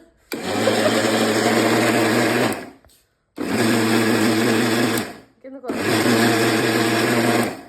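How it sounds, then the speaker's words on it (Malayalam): A mixer grinder, an ordinary curry-grinding mixie, grinding oats. It runs at a loud, steady whir in three separate bursts with short pauses between them, and no voices can be heard. "വേറെ മിക്സി ഒന്നും ഇല്ലാത്തതുകൊണ്ട് നമ്മൾ കറി ഉണ്ടാക്കുന്ന അരച്ചെടുക്കാൻ പോവാണ്."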